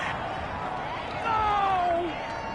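A stadium crowd at a Broncos football game reacts to a penalty call, a broad roar of many voices that swells in the middle and then settles, heard under a commentator's talk.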